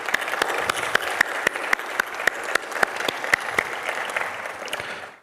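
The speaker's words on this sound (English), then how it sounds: "I would like to give Her Excellency a big round of applause for" Conference audience applauding the patron, Her Excellency, a steady sustained round of clapping from a large hall that fades out at the end.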